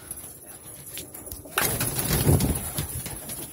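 Pigeons coo softly at close range as one is released into a net enclosure, joined halfway through by a louder rustle and flutter of activity that continues to the end.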